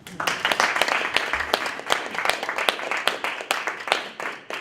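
An audience applauds to welcome a speaker at a talk, with dense, steady clapping throughout that keeps a fairly even level and fades slightly toward the end.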